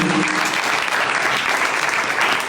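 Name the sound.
audience applause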